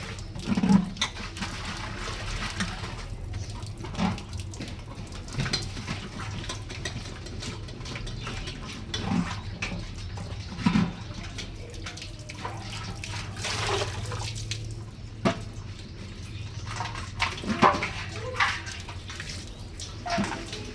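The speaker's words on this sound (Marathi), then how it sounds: "हांडा घेते भरून आणि पुन्हा भांडी घासून घेते" Tap water runs steadily into a metal pot while dishes are scrubbed, with occasional soft clinks and splashes over a continuous low wash of flowing water, fairly quiet and without talk.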